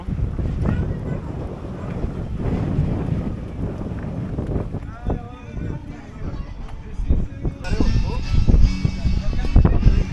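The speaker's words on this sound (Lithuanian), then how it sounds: "Vat vėjas pučia šalta." Cold wind gusts outdoors, roaring steadily against the microphone for the whole stretch and swelling louder near the end, with people talking underneath.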